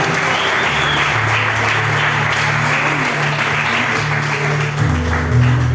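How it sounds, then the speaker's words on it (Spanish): A church youth congregation applauds the Lord after a sermon, a sustained crowd of overlapping claps with held keyboard or organ tones underneath and a brief swell near the end. "Vamos a dar un aplauso al Señor."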